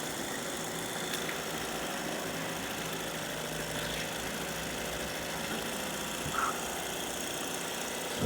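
A second engine running to generate electricity drones steadily and continuously at low level, a constant mechanical hum with no talking and only a faint knock near the end.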